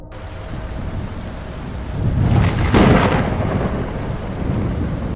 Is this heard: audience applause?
no